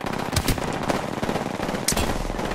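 Rapid automatic gunfire from a video game firefight rattles in quick continuous bursts, loud and close, with no talking over it.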